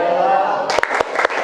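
Children clapping along in a tepuk rhythm game, a few quick sharp claps in short bursts right after a sustained sung voice, close and fairly loud.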